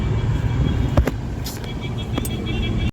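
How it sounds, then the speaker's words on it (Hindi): Dense Diwali shopping traffic on a busy street, steady low engine rumble with a few sharp horn-like or clattering bursts, close by and continuous under faint background chatter. "दिवाली के लिए बहुत ज़्यादा ट्रैफिक है"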